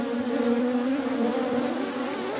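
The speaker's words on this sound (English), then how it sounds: "There's a lot of bees." A dense, steady buzz of many honeybees swarming around an opened horizontal hive split, loud and close, continuous with no voices.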